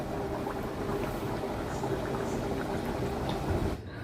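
Milk for tea heats in a pot on a stove, giving a continuous bubbling, seething rumble with a faint steady hum underneath, close and unbroken until it eases near the end.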